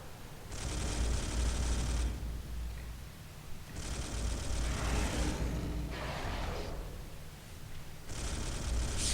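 Storm bolter fire in the Space Hulk video game: loud, close bursts of rapid automatic shots in three long volleys and a shorter one, separated by brief pauses, with no talk.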